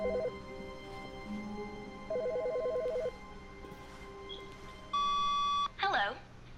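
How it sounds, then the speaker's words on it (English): In The Stanley Parable, an electronic office telephone trills in two short repeating bursts over a low hum, then a sustained beep and a warbling electronic tone follow near the end. "There's phones ringing."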